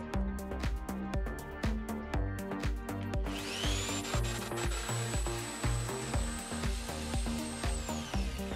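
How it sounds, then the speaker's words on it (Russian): An electric jigsaw fitted with a special attachment meant mainly for cutting plastic runs steadily. It gives a continuous rasping, rhythmic cutting sound, up close and with no talk. A high whine comes in partway through. "специальная насадка на электролобзик, которая служит в основном для резки пластика"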